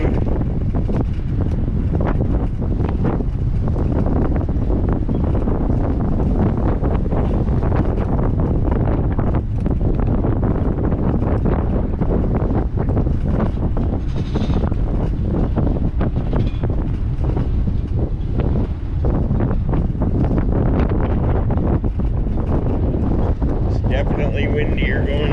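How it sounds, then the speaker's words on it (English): Strong wind buffets the microphone while travelling along the old Seven Mile Bridge in the Florida Keys, a constant loud rushing roar with people talking intermittently over it. "definitely windier going this way"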